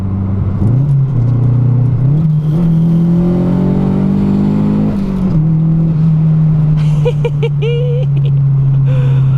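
Turbocharged Mazda MX-5 accelerating hard from the driver's seat, loud engine note climbing in pitch through a gear, a brief dip at a shift, then holding steady with a whistling turbo flutter near the end.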